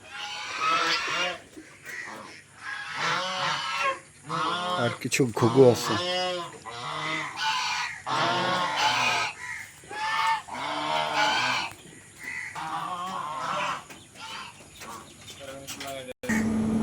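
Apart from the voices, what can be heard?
geese honking on a farm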